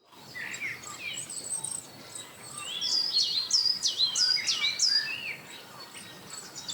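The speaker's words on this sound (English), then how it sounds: "So it's just some birds, some wind." Outdoor ambience loop with several birds chirping and singing, calls growing busier midway, over a steady soft bed of wind-like noise; no voices.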